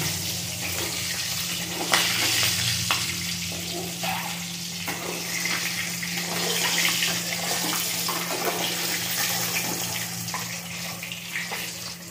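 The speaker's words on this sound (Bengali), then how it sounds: "আমার ডিমগুলো ভাজা হয়ে গেছে, আমি তুলে নেব।" Eggs fry in oil with turmeric for a Bengali egg curry, giving a steady close sizzle with faint crackles and a low hum beneath, without any talk.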